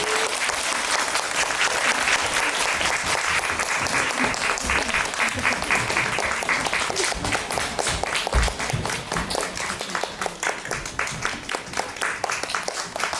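An audience claps at a Korean film screening talk event, with sustained, dense applause filling the room, some hands close and crisp, while voices murmur faintly underneath.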